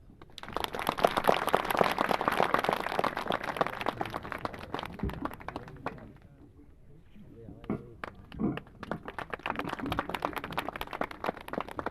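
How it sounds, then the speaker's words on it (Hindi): An audience at a gathering breaks into dense, loud applause that swells, fades briefly around the middle, then picks up again in a rattling wash of many hands. "जोरदार ताली।"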